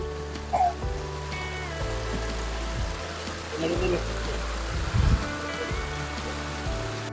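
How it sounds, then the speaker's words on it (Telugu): Steady, dense hiss of heavy mountain rain on the Shrikhand Kailash trek pouring down throughout, with people talking over it and occasional low rumbling underneath. "చూసారు కదా ఎంత పెద్దగా వస్తుందో వర్షం."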